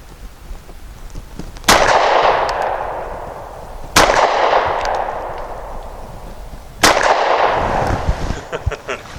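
A Mossberg MC1SC compact pistol fires three separate loud, sharp shots outdoors, spaced a couple of seconds apart, each crack followed by a long decaying echo that fades before the next.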